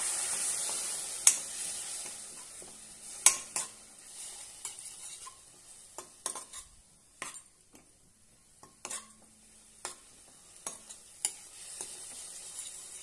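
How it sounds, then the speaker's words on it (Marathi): Curd and green chillies are sautéed in a pan for a Rajasthani chilli chutney, a faint sizzle under sharp, scattered spoon scrapes and taps against the pan, with no talking. "त्यामध्ये आपण हे 2 चमच दही घेतलेली ती घालूया आणि छानपैकी परतून घेऊया"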